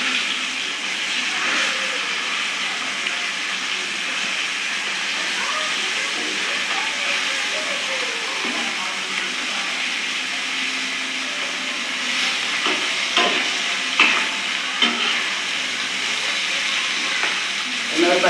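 Tirunelveli-style fish fry cooking in a pan gives off a continuous, even frying hiss with a few soft clicks and pops partway through, steady and fairly loud throughout.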